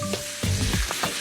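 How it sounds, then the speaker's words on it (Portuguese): Onion and garlic sauté in oil over medium heat for a Brazilian refogado, a short close sizzle and crackle with brief stirring scrapes and no voices. "Esse é o típico barulhinho do refogado."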